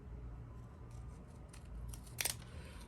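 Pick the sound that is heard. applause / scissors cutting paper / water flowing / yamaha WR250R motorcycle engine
scissors cutting paper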